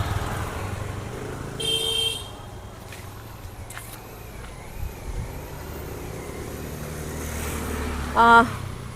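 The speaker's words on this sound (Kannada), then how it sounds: "ಈ ಗಾಡಿ ಈ ಕಡೆ ಸೈಡಿಗೆ ಬರಬೇಕು ಆಯಿತಾ" A car idles and rolls slowly nearby beside a godown, with a steady low engine rumble, a faint whine, and a brief sharp mechanical squeal near the end; a voice talks over it.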